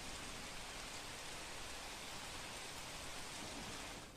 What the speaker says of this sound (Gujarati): મજુરા ગેટથી ઘોડદોડ રોડ પર વરસાદ પડ્યો છે।